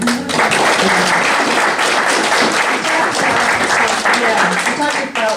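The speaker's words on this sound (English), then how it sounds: "let's give them another hand of applause" An audience gives sustained, dense applause after a medical presentation, a loud even wash of many hands clapping that fills the whole stretch.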